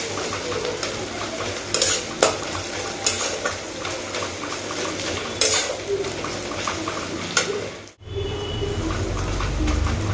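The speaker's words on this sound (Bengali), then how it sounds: "চলো এখন দেখে নিচ্ছি পেঁয়াজ ভাজা হয়েছে কিনা" Onions fry in a pan with a constant crackling sizzle, broken by repeated scraping and clinking stirs of a utensil against the metal, close and fairly loud.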